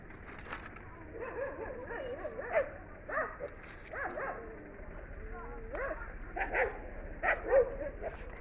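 A dog whimpering and yipping with some barks, moderately close, with a person talking intermittently around it.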